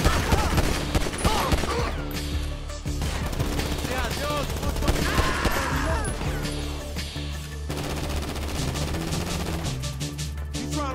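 Video game gunfire in Grand Theft Auto 5 fills the scene with rapid automatic bursts and scattered single shots, loud and near, under game music and effects, with someone talking over the action.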